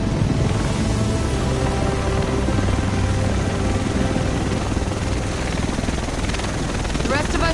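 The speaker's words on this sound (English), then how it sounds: "The rest of us should be in this chopper." A helicopter arrives in The Division's Manhattan, its loud steady rotor thrum and engine roar filling the scene throughout, with a voice speaking over it.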